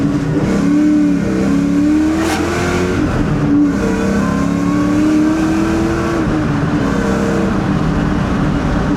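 The Eaton supercharger on a Ford Mustang Mach 1 running pump 93 fuel whines loudly as the engine revs, rising and falling in pitch over a continuous roar, with no talking.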